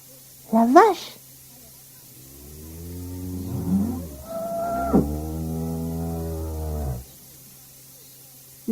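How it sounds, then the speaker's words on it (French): A cow moos in one long, low, drawn-out call with a rising and falling tone, close and clear, with brief voices just before and after it over a faint background hum. "La vache."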